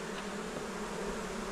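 Honeybees buzzing steadily at an open hive during beekeeping work, a dense continuous drone close by that holds even throughout.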